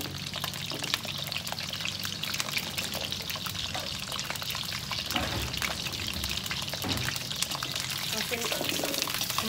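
Amla pickle sizzles in hot oil while being stirred and turned in the pan, a continuous crackling fry with scraping stir sounds, steady and close throughout.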